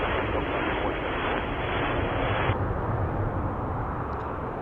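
WestJet Boeing 737-800 taking off from runway 05 at Toronto Pearson, a loud sustained jet roar with broadband rushing noise that softens slightly partway through.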